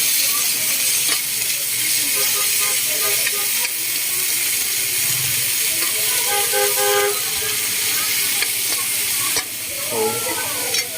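Ampalaya (bitter gourd) frying in a hot pan with tomato and seasonings, a loud steady sizzle close by, with scraping stirring and a brief voice underneath.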